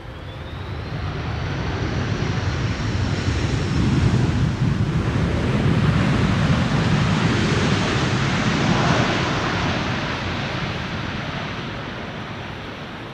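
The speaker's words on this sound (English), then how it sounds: "Lovely landing, a lovely spool up of the reversers right in front of us." A Delta Air Lines Airbus A330 landing at Amsterdam Schiphol, its thrust reversers spooling up into a loud, sustained broadband engine roar that swells and fades, close by, with wind buffeting and no talking.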